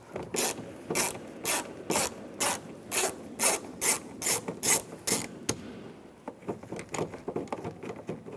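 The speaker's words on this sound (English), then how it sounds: "Take those out. Use the T25 socket." A ratchet fitted with a T25 socket clicks in quick, sharp bursts as it backs screws out of a 2003-2010 BMW X3 door panel, a dozen close, loud ratcheting strokes, then softer scattered clicks.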